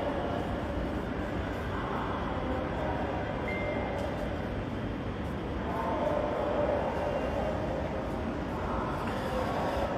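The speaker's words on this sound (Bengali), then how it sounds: "সকল মেট্রো স্টেশনে কিন্তু ট্রেনগুলো থামছে এবং যাত্রী নিয়ে গন্তব্যের দিকে ছেড়ে যাচ্ছে" A Dhaka Metro Rail train rumbles steadily along the track, a continuous low, fairly loud roar of wheels and carriage noise.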